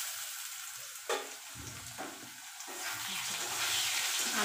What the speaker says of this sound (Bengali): ঢাকাটা খুলে দেখি কতটা হলো আলু ভাজা